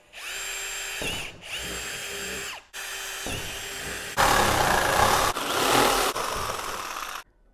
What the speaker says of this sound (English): To notch out, I'm going to put a drill on this